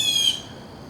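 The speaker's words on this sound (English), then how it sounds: "There's some very unhappy birds, I think." Birds squawk sharply in a garden among pepper plants, a brief agitated burst of high calls at the start that quickly fades, with no talking.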